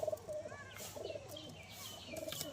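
A female kamagar pigeon coos in soft, low, repeated notes close by, with faint chirps and light background noise between the calls.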